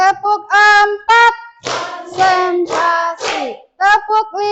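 A group playing an ice-breaking clapping game mixes loud unison chanting with several fast, ragged bursts of hand claps in the middle, voices returning on either side.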